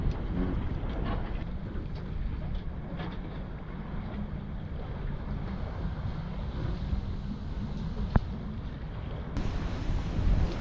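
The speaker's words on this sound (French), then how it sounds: "le vent est arrivé, on fait un peu de voile dans la baie de Sept-Îles" A sailboat runs under wind in the bay of Sept-Îles, with steady rushing wind buffeting the microphone and water washing along the hull, plus a sharp knock near the end.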